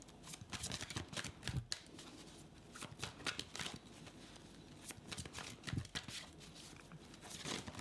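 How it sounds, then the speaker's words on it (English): A thick deck of playing cards is shuffled several times, with rapid riffling bursts and soft slaps close up, separated by brief pauses in a quiet room. "That's one of the hardest decks I've ever seen shuffled."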